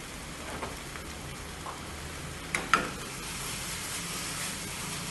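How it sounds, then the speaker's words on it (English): Mushrooms sizzling in a hot pan of oil for an ancient Greek lamb, celery and mushroom dish, a steady close hiss and crackle with a couple of sharper pops, no talk. "we will add the mushrooms"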